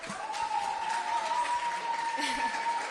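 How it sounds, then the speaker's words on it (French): Applause for a guest named Elsa on a French televised stage show rolls on steadily for a few seconds, with a sustained tone running underneath the clapping. "Applaudissements pour Elsa, s'il vous plaît, encore plus fort."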